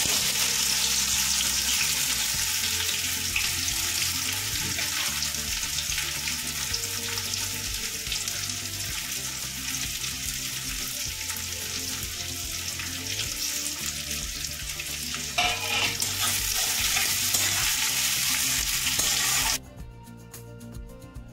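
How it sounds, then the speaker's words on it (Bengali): Onions frying in melted, caramelized sugar for restaurant-style mutton kosha, a steady loud sizzle with occasional stirring that runs for about twenty seconds before cutting away abruptly near the end. "এর মধ্যে আমি এবার পেঁয়াজগুলো দিয়ে দেব"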